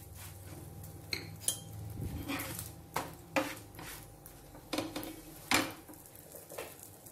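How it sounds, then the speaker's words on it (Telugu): A metal spatula clinks and scrapes against a pan as a chapati is turned while frying in oil, with about a dozen separate taps and scrapes spaced irregularly, near and moderately quiet, with a faint hiss underneath. "ఆ చపాతీని ఇలా తిప్పుకుంటూ ఫ్రై చేసుకోవాలి."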